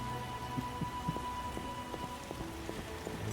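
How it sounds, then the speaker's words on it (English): Rain falling in the video game The Witcher, a steady hiss of drops on surfaces with faint distant rumbling and scattered low game tones, no speech. "most people will just go shelter from the rain"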